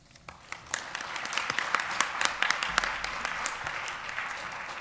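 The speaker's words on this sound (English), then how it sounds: "I hope you'll join me in giving all of our presenters one more round of applause" An audience at an academic conference applauds its presenters, scattered claps building quickly into a full, even round that continues at a moderate distance.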